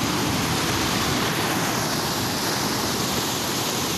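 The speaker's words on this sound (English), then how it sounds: "I'm coming up to where the weir is" River water pours over a weir in a dense, unbroken roar of rushing and splashing, loud and steady throughout with no other sounds.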